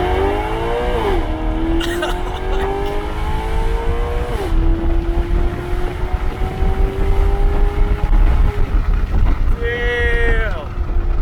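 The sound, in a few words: supercar with F1 exhaust accelerating and revving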